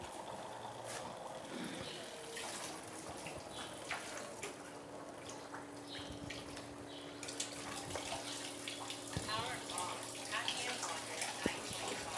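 Alkaline water at pH 11.5 streams steadily from a Kangen water ionizer machine, a continuous close splashing flow with a low pump hum running underneath the whole time.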